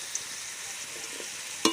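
Potato pieces fried until deep red in hot oil, a constant soft sizzle with a few light stirring clicks and a brief louder scrape near the end.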